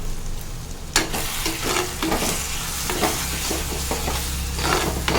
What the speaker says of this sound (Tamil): இப்போ நம்ம அரைச்சி வச்சிருக்க அந்த பொடியும் இதோட சேர்த்து நல்லா கலந்து விட்டுறலாம்